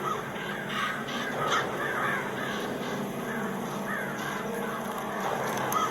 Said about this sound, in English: The crows are cawing.